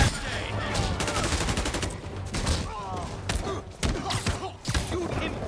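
Repeated bursts of gunfire in Spider-Man Remastered, sharp shots and rapid volleys scattered across a busy fight with thuds and impacts, fairly loud and close.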